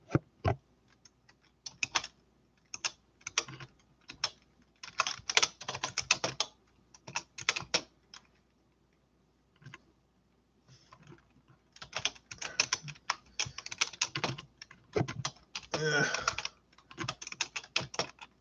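A computer keyboard is typed on in uneven bursts of close, crisp key clicks, broken by a few pauses and occasional heavier bumps, with no talking.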